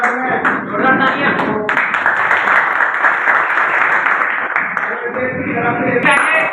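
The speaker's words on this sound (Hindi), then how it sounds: "युवा संसद में जोड़ा तालियां" Clapping fills a youth leadership and community development training session, dense and continuous with a brief dip early on, as an audience applauds at close range.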